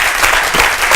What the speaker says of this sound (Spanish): Así que sí os pido que recibáis a Paco Plaza con un aplauso.